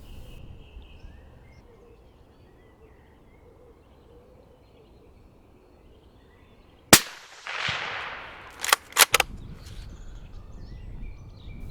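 A single loud rifle shot is fired at a buck near a woodland edge, cracking sharply after a long quiet stretch of faint birdsong, followed by a few brief echoing knocks.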